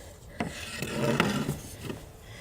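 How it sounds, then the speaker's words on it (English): Small leftover pieces of wood being hand-sanded for use as braces, a soft scratchy rasping in short uneven strokes, close and fairly quiet. "Now I'm going to sand down my little excess pieces that I'm going to use as bracers."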